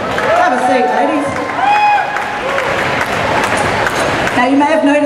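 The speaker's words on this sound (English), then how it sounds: "Give them a very big round of applause." Indoor audience applause for the Matildas, the Australian women's soccer team players, with steady clapping throughout while a voice speaks over it.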